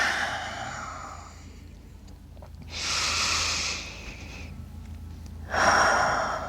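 Slow, audible breaths, a long inhale and exhale followed by another breath, close to the listener, soft and steady with no talking.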